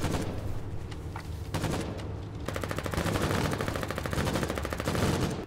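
Rapid automatic gunfire and single shots in a pirate raid video game, sustained bursts at close range filling the whole stretch with a dense rattling rhythm.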